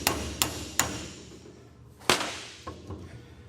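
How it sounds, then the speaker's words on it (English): A hammer strikes a Snap-on socket to drive a U-joint part into a 1996 Toyota 4Runner double cardan joint, sharp metallic blows close up: three evenly spaced hits, a pause, then a harder hit and two lighter taps. "Beat that in there the rest of the way."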